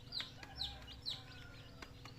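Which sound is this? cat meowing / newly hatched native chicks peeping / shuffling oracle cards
newly hatched native chicks peeping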